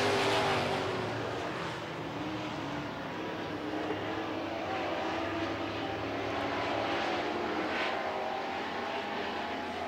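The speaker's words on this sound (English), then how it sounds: "These trucks are spreading out pretty quickly here in this race." Race trucks roar around the Red River Co-op Speedway at a Thursday night event, a continuous loud engine drone with pitch sweeps as they pass, heard from the stands without voices.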